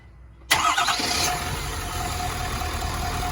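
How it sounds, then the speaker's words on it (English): A Ford F250 pickup engine cranks and fires abruptly, then settles into a steady, loud idle close by. "have him start the truck up"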